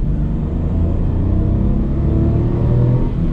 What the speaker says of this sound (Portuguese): Fora o ronquinho característico do motor três cilindros também que eu gosto bastante.